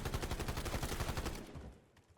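A burst of rapid automatic gunfire in the Warzone Mobile shooter game, a dense rattling volley of shots lasting over a second before cutting off and fading.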